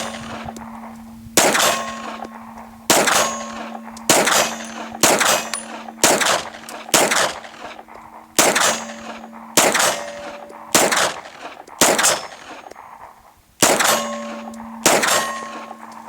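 A Glock 17 with a rough textured frame is fired at steel targets, and each shot lands as a loud, sharp report with a ringing metallic clang. A dozen shots come at a steady, fairly quick pace outdoors, with no talking over them.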